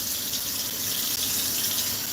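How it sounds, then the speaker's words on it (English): Water pours steadily into a flower pot from close by, a constant hissing trickle for about two seconds with no pauses and no talk. "I'm just going to put in some water in my flower pot"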